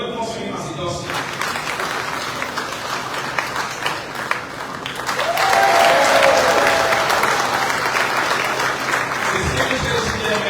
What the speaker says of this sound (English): A round of applause for him as he does so.